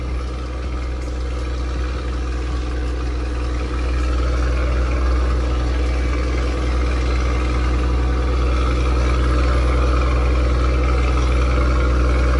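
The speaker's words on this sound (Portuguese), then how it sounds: "Esqueci de mostrar a válvula de escape pra vocês." A heavy truck with an exhaust brake valve rumbles loudly and steadily nearby, its deep engine drone swelling slightly over about twelve seconds with no voices.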